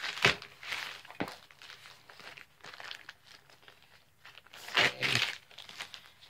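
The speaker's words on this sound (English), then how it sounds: "I'm actually using my X-Acto knife" Intermittent crinkling and tearing of a box's packaging as an X-Acto knife slices through it, with a couple of sharper crunchy bursts, close and fairly quiet.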